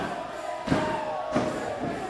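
Wrestling fans chant in an arena at a SPRY Wrestling event, the crowd's voices rising in rhythmic swells about every half second, loud and reverberant over a steady room din.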